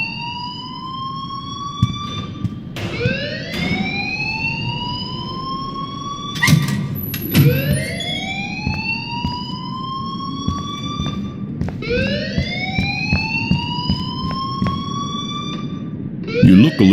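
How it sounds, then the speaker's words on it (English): A wailing school fire alarm from the video game Life Is Strange sweeps upward again and again in loud, repeating rising tones, with a steady background hum beneath and a few faint knocks. "please turn off that alarm since that's your job."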